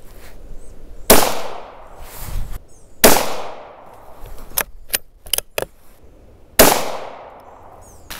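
Three loud, sharp reports from an unsuppressed .17 HMR rimfire rifle fired at a 50-yard target, each with a short decaying tail, spaced a couple of seconds apart, with clicks and clatter of bolt handling in between.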